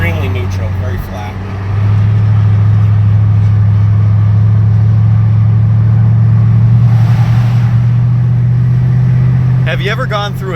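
A 2007 Mercedes-AMG SL55 in sport mode accelerates hard from inside the cabin, its loud, steady low engine drone swelling after a brief dip and holding near, with a voice speaking briefly near the end.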